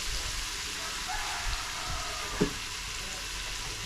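Tomatoes and onions sautéing in a pan, giving a steady, close hiss and crackle with one brief clink partway through.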